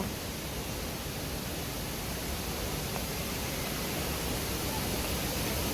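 Steady broadband rush of flowing water in the indoor garden at Hamad International Airport, Qatar, constant and fairly loud throughout, with no breaks or voices.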